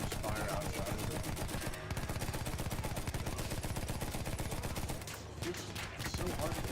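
Rapid continuous automatic gunfire in the World War I shooter Battlefield 1, a dense loud rattle of shots with brief pauses, heard close.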